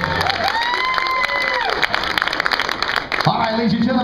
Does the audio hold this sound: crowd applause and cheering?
yes